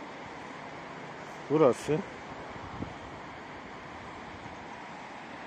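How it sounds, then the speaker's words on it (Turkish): The Fırtına stream in Rize flows in a steady, broad rushing hiss that continues unchanged throughout, while someone speaks briefly over it. "Bu da Fırtına Deresi. Muhteşem akış."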